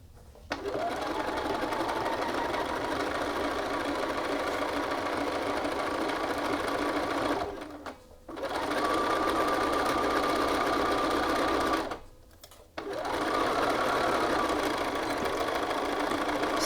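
A home sewing machine runs in long steady bursts while stitching the layers of a shirt yoke, its motor whirring evenly and stopping twice for short pauses before starting again, close and alone with no talking.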